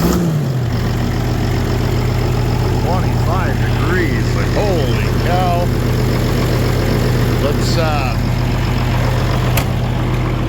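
A John Deere 9420 tractor engine idles with a steady low rumble throughout, close and continuous, while someone talks over it.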